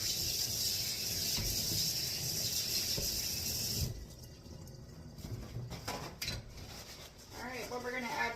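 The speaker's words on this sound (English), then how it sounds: "Let me wash my hands real quick." Kitchen tap running steadily while hands are washed, a bright constant hiss that stops abruptly partway, followed by clinking and rustling of dishes nearby.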